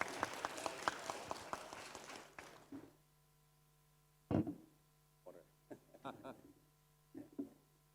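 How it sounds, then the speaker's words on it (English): Applause from a conference audience for a minister's special address, dense clapping for the first three seconds then fading, followed by scattered thumps and faint room noise. "Round of applause."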